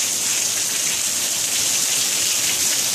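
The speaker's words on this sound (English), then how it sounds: "we got the first rain in 72 days." Rain falls steadily in Arizona, a dense, even hiss of drops on surfaces, loud and close with no voices.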